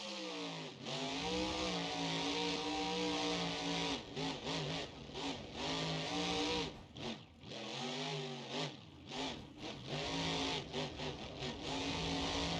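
A monster truck engine in BeamNG.Drive, a Monster Jam setup, revs up and down repeatedly, its growling pitch rising and falling in close, steady bursts with no voices.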